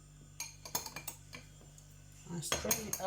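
A spoon scrapes and clinks against a metal strainer as grated carrot is pressed through into a bowl, a run of light irregular taps and scrapes that thickens into denser scraping near the end, close up.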